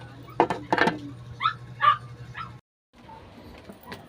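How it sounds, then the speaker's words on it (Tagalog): Puppies bark in a home, with a few sharp close yips early, then higher whimpering yelps, followed by a brief silence and quieter rustling. "Ayan na yung mga tuta namin."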